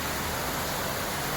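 Heavy rain pours down steadily, a loud, dense, unbroken hiss of rainfall with no talk.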